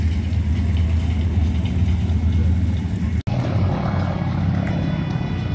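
Piper J3 Cub light aircraft flying with a steady droning propeller engine hum, continuous and moderately loud, with a brief dropout partway through.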